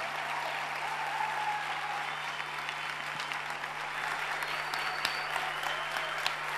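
Audience applause welcoming a guest ophthalmologist onto a stage, a continuous bright clatter of many hands clapping at steady moderate volume for several seconds.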